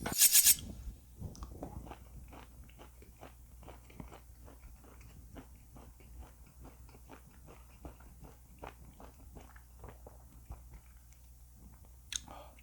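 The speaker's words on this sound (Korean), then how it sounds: "살치 한번 먹어볼게요." Grilled Korean beef chuck flap being chewed close up, a steady run of soft, moist crunching bites repeating through a long quiet stretch, with a brief louder clatter at the start.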